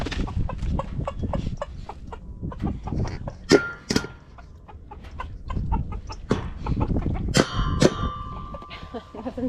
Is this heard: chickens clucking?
yes